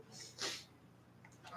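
A single quiet sneeze from someone in a chemistry lab class, short and breathy, distant and faint against low room noise, with soft voices around it.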